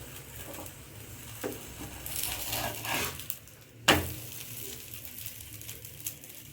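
Paruppu poli, a sweet lentil-filled flatbread, fries in ghee on a pan with a soft, steady sizzle, broken by a few scraping touches and one sharp clatter of utensil on pan. No one speaks.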